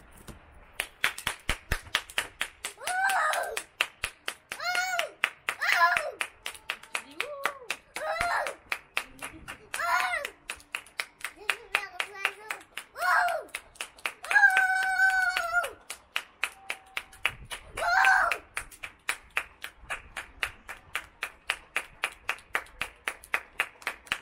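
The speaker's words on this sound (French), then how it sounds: "Allez, applaudis." A child claps hands at a family dinner table at home, a run of sharp, evenly spaced claps going on throughout, close by, under a woman's speech.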